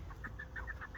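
Chickens cluck inside a cage in a short, faint burst of several quick, rhythmic clucks, close by.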